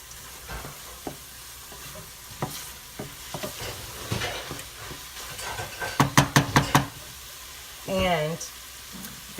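Rice dressing being stirred in a pot, with scattered spoon scrapes and knocks against the pot, a soft sizzle, a short run of rapid clinks, and a brief hissing burst near the end.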